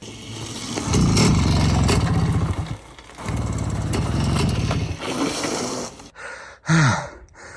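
A Romet Ogar 200 moped, left in a shed for years, is push-started and sputters into a throbbing two-stroke idle in surging bursts, close by, followed by a sharp gasp.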